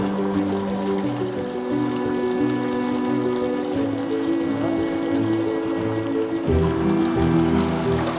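Tap water runs steadily while silverware is rinsed, a continuous splashing stream with some gurgling, close and fairly loud throughout.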